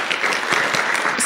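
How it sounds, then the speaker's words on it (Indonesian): An audience claps together in a seminar hall, a dense steady burst of applause throughout. "upline saya Ibu Katarina dan Dr. Budi, tepuk tangan untuk beliau Bapak Ibu."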